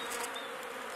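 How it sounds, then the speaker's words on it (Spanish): Honeybees swarming around a busy hive, a dense, even buzzing drone from many insects close by, steady for the whole second with no voices. "Una colmena en plena ebullición."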